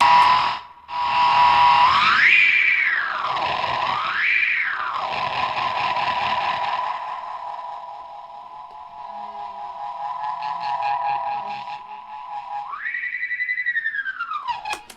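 An Echorec-style analog tape echo unit with every control turned up full, howling into loud self-oscillating feedback whose pitch swoops up and down, then settles into a sustained droning tone before another rising sweep, continuous throughout.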